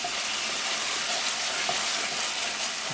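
Tomatoes fry in a pan over medium gas while being stirred and mashed, giving a steady close sizzle with soft scraping and squishing bursts mixed in. No one speaks.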